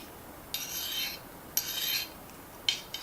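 A sharpener rasps along the blade of an Everest 12-inch survival kukri knife in three separate gritty strokes, each about half a second long, close and clear against a quiet background.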